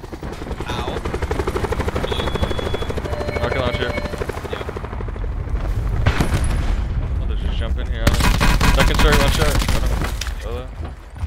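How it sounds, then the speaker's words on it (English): Rocket launcher blasts and gunfire in a multiplayer shooter game, a sustained roar of explosions and rapid shots building to a loud burst near the end, with voices talking over it. "Who shot the rocket launcher then?"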